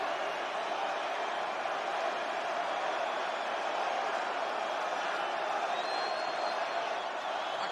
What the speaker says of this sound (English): Many of the crowd chanting for The Rock. Quite frankly, many in the crowd chanting for Hogan.